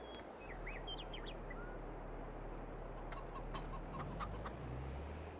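Chickens in Farming Simulator 22 give a few short clucks and chirps early on, fairly faint over a low steady background hum, followed by scattered light ticks; no talking.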